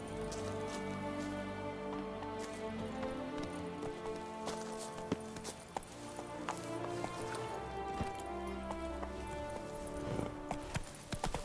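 Roach, a horse in The Witcher 3, gallops with steady, rapid hoofbeats that carry on throughout over game ambience, with occasional louder clops and faint background voices.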